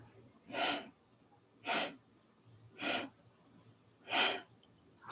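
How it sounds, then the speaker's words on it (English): Slow, soft breaths during a guided meditation, four airy exhalations spaced about a second apart, close and quiet against a faint low hum. "And exhale."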